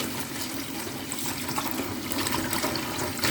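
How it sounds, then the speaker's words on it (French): Tap water runs at full flow, a continuous broad rush heard close by, while carrot greens are rinsed in it. "à grandes eaux, jusqu'à ce que l'eau soit claire"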